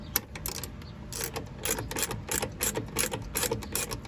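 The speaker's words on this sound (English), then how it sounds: "If y'all don't have these ratcheting wrenches," A ratcheting wrench clicks in quick, evenly spaced bursts while tightening a bolt on a shock absorber of a 2003 Jeep Wrangler TJ Rubicon, close and crisp, with no talking.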